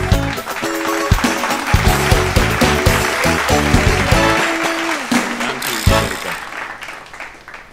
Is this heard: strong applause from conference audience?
yes